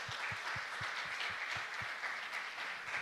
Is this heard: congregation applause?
yes